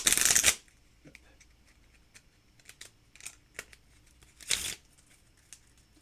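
Two loud, rapid bursts of cards being shuffled, one at the start and another near the end, with soft clicks and handling noises in between.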